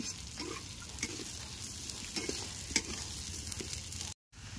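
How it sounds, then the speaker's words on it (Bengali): Gobindobhog rice being stir-fried in a pan for a Bengali katla fish-head muri ghonto, with a soft, continuous frying sizzle and occasional light scraping strokes, fairly quiet and close, with a brief dropout near the end. "এবার একসঙ্গে এটাকে ভেজে নেব।"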